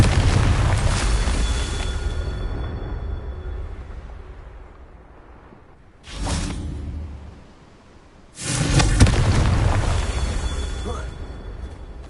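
Confringo spell blasts from Hogwarts Legacy: loud booming explosions with whooshing bursts, a long decaying blast followed by two more sharp impacts after brief quiet.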